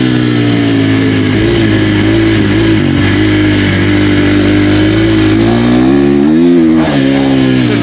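A dirt track racing motorcycle drones through a practice session on a loose surface, its engine note holding steady and then rising and wavering in pitch as the throttle changes.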